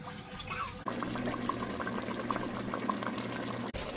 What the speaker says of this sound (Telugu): దాంట్లో ఉన్న గ్రేవీలో కొంచెం వాటర్ మిక్స్ చేసి అయితే పోసి ఇంకా దాన్ని ఉడికిస్తా ఉంది